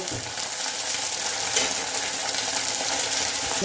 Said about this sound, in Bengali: এবার একটু কষে নেবো